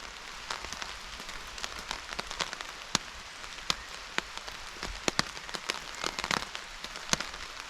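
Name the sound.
rain falling on bin bag shelter in rainstorm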